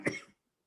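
One short, close cough, quick and dry, followed by quiet.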